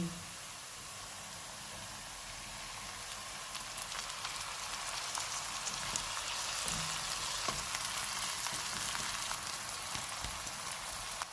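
Onions frying with ginger-garlic paste in a pan for anda keema give off a steady, hissing sizzle with small crackles and pops. It runs evenly throughout with no talking.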